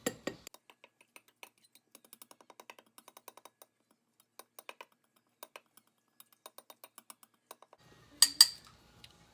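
Crushed eyeshadow powders mixed together in a cup, a string of light, quick clicks and taps from a tool against the container, ending in a brief louder clatter.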